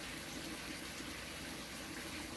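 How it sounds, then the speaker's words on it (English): Water pours into a hot pan with Salisbury steak and mushroom garlic sauce, a steady hissing gush that runs evenly and fairly close throughout. "I'm just going to go in with the rest of that water."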